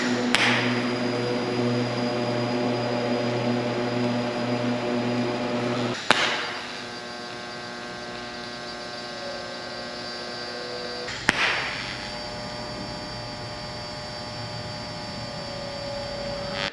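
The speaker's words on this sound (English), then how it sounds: "I guess I'm just gonna weld away." Steel tube being welded for a 1930 truck bed on a diesel pickup build: a steady, close electric hum and hiss that runs without a break, with two sharp clicks where the arc stops and starts again.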